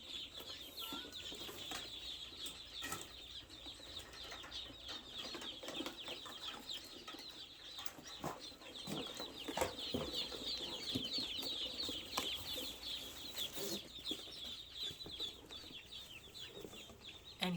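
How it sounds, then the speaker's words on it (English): Thirty-four ducklings in a brooder under a heat lamp, a steady dense chorus of high peeping with scattered flutters and scuffs, close and continuous, with no talking. "And here are the little ducklings."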